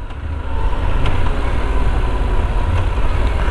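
A Yamaha Super Tenere 1200 motorcycle engine idles close by, a loud, steady low rumble that swells after a brief quieter start and holds evenly throughout, with no talking.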